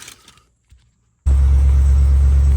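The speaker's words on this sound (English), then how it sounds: "Here is the truck just idling normally." After a short near-silence, a pickup truck engine starts idling with a loud, steady low rumble that carries on unchanged to the end.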